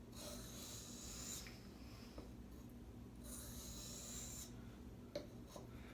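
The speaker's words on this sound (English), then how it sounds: "We'll lay the blade on the stone and we'll just tilt up just enough to where the edge or the bevel is firmly and evenly" A knife blade is drawn across a sharpening stone with light pressure, producing two long, hissing scrapes separated by a pause, plus a few small clicks, close and soft.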